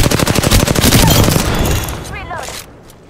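A rapid burst of automatic gunfire from Apex Legends rattles out in quick regular shots, loud and close, then tails off as a player talks.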